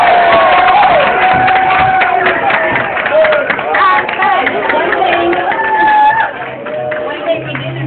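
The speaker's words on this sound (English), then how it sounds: "Let's just give them another round of applause for our great" Parents cheer and clap for school performers, with shouts, whoops and excited voices over scattered clapping. The sound is loud and crowded at first, then thins somewhat toward the end.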